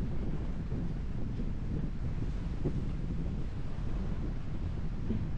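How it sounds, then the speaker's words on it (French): Strong, steady wind buffets the microphone outdoors near water, a constant low roar with gusty rumble and no clear talk throughout. "Là, il y a un vent relativement fort."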